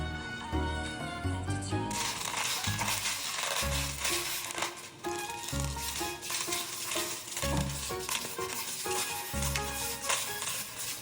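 Mung beans rubbed and swished with salt in a bowl, a steady close gritty rustling and stirring that continues without pause under a faint background tone.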